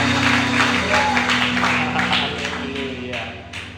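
Dense applause from a church congregation during a service at GBI Tanjung Anom, a steady wash of clapping over sustained musical tones, with a voice faintly present underneath.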